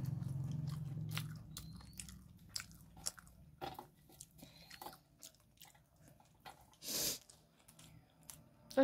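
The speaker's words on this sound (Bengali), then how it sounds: "তো খাচ্ছি, খাওয়ার ভিডিও করছি।" Crisp bites and wet crunching chews on small hot micro chilies, eaten several at once, close to the mouth in a quiet room, with irregular smacks and a louder crunch near the end.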